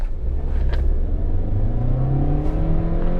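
A 2016 Skoda Rapid 1.2 TSI DSG with tuned software accelerates hard from a launch, its engine note climbing steadily in pitch as the revs rise, loud and continuous from inside the car.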